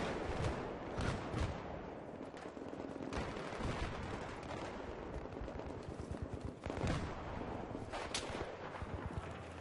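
Battlefield 3 multiplayer on Karkand: rapid bursts of automatic gunfire and heavier blasts crackle repeatedly, near and loud, with no talking.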